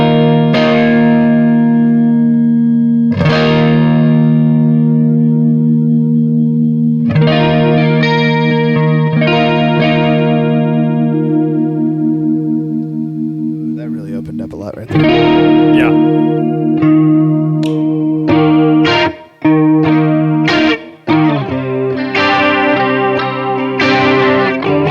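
Electric guitar played through a Walrus Audio Julia chorus pedal set to full depth with lag at zero, then depth off: ringing strummed chords and arpeggios with a wavering, shimmering swirl, loud and alone, with brief pauses near the end.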